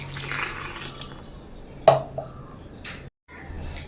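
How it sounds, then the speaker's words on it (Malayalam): Water poured from a vessel into a pan of Kerala-style crab curry with ground masala paste, a soft steady pour and splash running for a few seconds, with one brief clatter midway and a short pause near the end. "നമുക്ക് കുറച്ച് വെള്ളവും കൂടി ഒഴിച്ച് കൊടുക്കാം"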